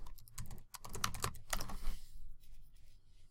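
Rapid typing on a computer keyboard entering a search, dense bursts of close key clicks for about two seconds, then sparser, lighter keystrokes trailing off.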